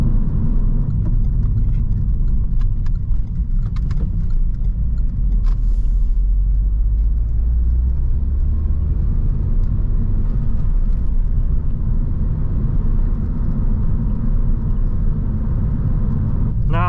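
A Renault Megane Coupé 2.0 TCe with a six-speed manual drones steadily from inside the cabin, a constant low rumble of road and motor noise with no talking.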